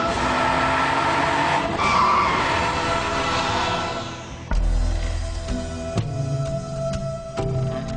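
A BMW Z4 M drives hard with its tires skidding, a loud broadband roar and screech for several seconds before cutting to engine and road noise, close with no talk.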